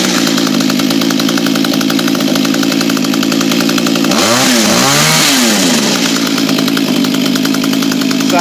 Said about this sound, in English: There we go, the mantis is up and running now.